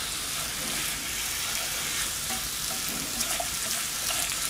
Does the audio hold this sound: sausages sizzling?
yes